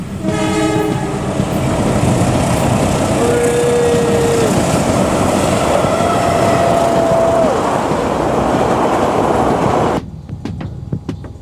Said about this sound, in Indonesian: Ada kereta guys, ada kereta guys.